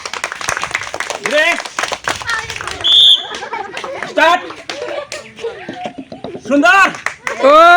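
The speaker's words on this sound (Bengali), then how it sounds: "তালি বেজো তালি বেজো" A few sharp hand claps ring out amid lively chatter and laughter from several people nearby during a rural game of hitting colorful balls through ribbons.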